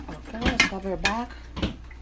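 A lid set back onto a cooking pot of kale, cabbage and carrots, giving a few short clattering knocks and scrapes, with a voice speaking over them.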